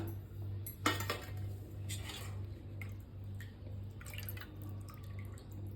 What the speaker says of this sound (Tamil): இப்போ பருப்பு ரசம் கொஞ்சம் ஊற்றிக்கலாம்.